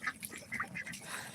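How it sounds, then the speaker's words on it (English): Ducks quack in a quick, busy series of nasal calls, fairly close and moderately loud, with no talking. "We got our ducks that are really"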